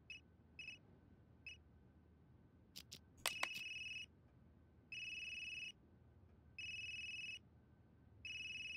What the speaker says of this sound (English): That geezer's phone is ringing.